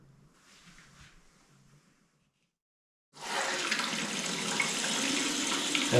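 Water rushes loudly and steadily into a toilet tank refilling after a flush, following a fitted replacement handle; a quieter trickle comes first, then a short pause before the strong, continuous filling flow.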